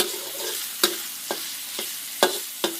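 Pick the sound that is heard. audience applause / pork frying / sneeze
pork frying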